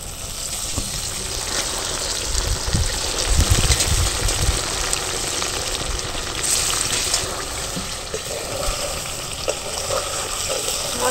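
Salt-water-soaked paneer drops into hot spiced oil for Basanti pulao, bursting into a loud, continuous sizzle with heavier bubbling and stirring scrapes partway through.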